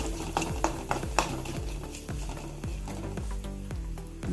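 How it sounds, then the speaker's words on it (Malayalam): Mustard seeds, chopped chili and curry leaves tempering in hot oil for chutney, sizzling and popping close by with regular stirring clinks and scrapes in the pan. "കടുക് പൊട്ടി വരുമ്പം ഒരു മുളക് അരിഞ്ഞ് രണ്ട് മൂന്ന് കഷ്ണാക്കിയതും കുറച്ച് കരിയേപ്പിലയും കൂടി ഇട്ട് കൊടുത്ത്"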